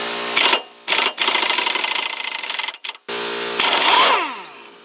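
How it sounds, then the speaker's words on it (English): Air impact wrench on a Cub Cadet LT1045 riding mower, loosening the blade spindle nut: several loud, close rattling bursts of hammering, the longest running about two seconds, separated by short pauses, ending in a fading whir. "It's just a little bit easier if you've got the air impact wrench."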